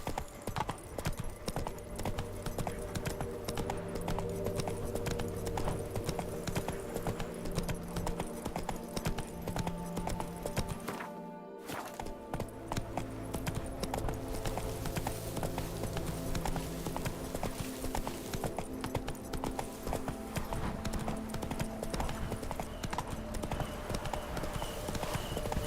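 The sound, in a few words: horse Roach galloping in the video game The Witcher 3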